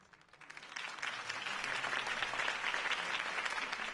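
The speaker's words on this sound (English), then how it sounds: "If only Mr. Wayne, my campaign's largest backer, could have heard that applause" Crowd applause from a political campaign rally for Harvey Dent in the Batman Telltale video game, a dense wash of clapping that swells within the first second and holds steady and loud to the end.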